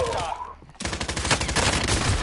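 Rapid bursts of video game gunfire crackle loudly and densely through most of the moment after a brief lull, with a player's voice faintly mixed in during a duos match.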